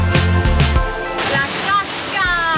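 A waterfall rushes loudly and continuously close by, with a voice briefly audible over the churning water.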